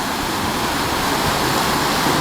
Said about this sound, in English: the water is rushing at a pretty good speed here